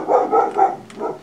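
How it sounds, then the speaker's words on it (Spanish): A dog in a zombie apocalypse puzzle video game lets out a quick run of three or four moderately loud barks, followed by a softer one, with no talking over it. "Me ladró el perro."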